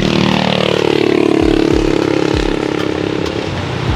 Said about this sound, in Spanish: Tres motos.